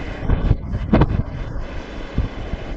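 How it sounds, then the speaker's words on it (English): Strong wind from a blower pointed at a wind generator tester, gusting roughly against the microphone as a loud, low rumble with several heavier buffets. "The blower is blowing in the center of the system and the tips."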